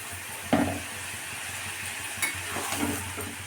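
A little water hits a hot frying pan and sizzles softly, with a few quiet clinks and stirring scrapes of a utensil against the pan, no voices.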